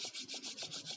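Palms briskly rubbed together at the end of a beginner yoga session, a rhythmic swishing friction of about seven quick strokes in a second, close and clear with no talking.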